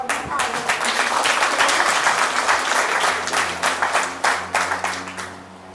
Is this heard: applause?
yes